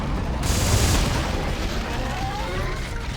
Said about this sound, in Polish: Czego ja fajerwerki słyszę?